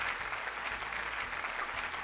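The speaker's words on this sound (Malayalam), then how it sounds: "ഏതായാലും നല്ല കയ്യടി കൊടുക്കണം" Studio audience applause during a Malayalam TV game show, continuous hearty clapping from many people that stays loud and even for a couple of seconds, with no talk over it.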